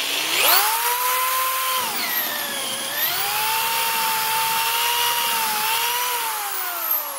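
A power drill fitted with a ship auger bit bores into wood, its motor whining steadily with pitch dips and rises as the bit bites and slows, loud and close with no talking.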